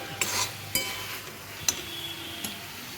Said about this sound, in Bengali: হ্যাঁ, কষা আমার হয়ে গেছে লাউর ডাঁটাটা